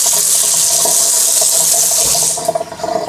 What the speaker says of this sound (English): I'm just feeling the water coming out the bottom of the portafilter. I just use warm water